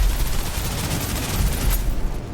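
Sustained gunfire in the video game Snowbreak, a loud, dense rattle of rapid shots rolling on without pause over heavy low rumble, with a brief sharper burst near the end.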